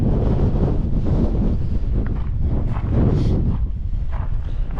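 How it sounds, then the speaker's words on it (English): Strong gusting wind on an open canyon rim above the Snake River buffets the microphone, a loud continuous roar of rumbling wind noise throughout with no talking. "Stiff wind"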